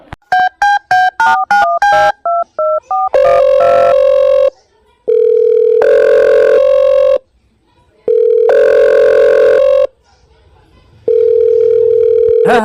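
A telephone is dialled with a quick run of keypad tones, followed by a series of long, evenly spaced ringing tones as the call goes through. The ringing is loud and close, with short silences between the rings.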